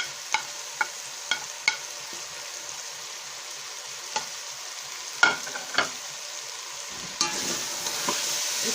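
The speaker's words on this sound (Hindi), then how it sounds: "अब हमारे आलू भुन चुके हैं, इसमें वो सब्ज़ प्याज डाल देंगे।" Green onion tipped into a pan of fried potatoes for a mixed vegetable dish, sizzling close by while a spoon scrapes and clacks in several sharp knocks against the pan, the stirring busier near the end. No one talks.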